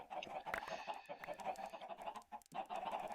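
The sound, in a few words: chickens clucking in chicken pits, video game Gult's Gorge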